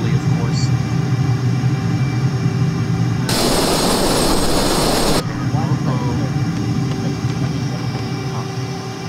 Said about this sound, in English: I'm going to pull out, engage afterburner